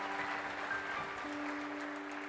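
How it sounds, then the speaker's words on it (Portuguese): A congregation claps together during a church sermon, a short, steady burst of palms heard at moderate distance, with a faint sustained tone running beneath it. "Dê uma salva de palmas para o Senhor, que é bom."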